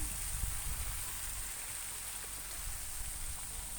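A garden waterfall in a shady flower garden at Ta Suea, Udon Thani, Thailand, gives a steady, even rush of falling water that stays constant throughout with no voices.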